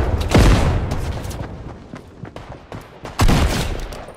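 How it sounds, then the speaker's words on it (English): Gunfire in the Fortnite video game, rapid bursts of shots with two heavy booming volleys at the start and near the end, loud and close, with scattered single shots between. "Oh, he's being shot at by a third party."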